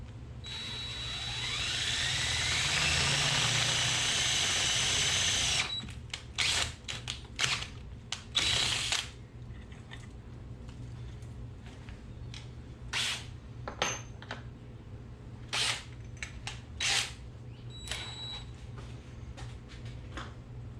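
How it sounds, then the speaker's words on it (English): A drill boring holes in a MotorGuide trolling motor part, a loud sustained whir for about five seconds, then a series of short, sharp bursts and clicks separated by quiet pauses. "So I'm going to go ahead and drill the big holes on this side"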